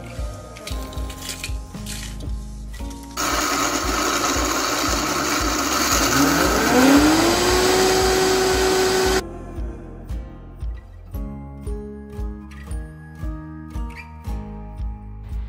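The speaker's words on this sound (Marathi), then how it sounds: "मग आपण सुकंच हे मिक्सर मधनं वाटून घेऊया" An electric mixer grinder whirs loudly for several seconds while grinding roasted dry spices, its pitch rising as the motor spins up, with background music before and after.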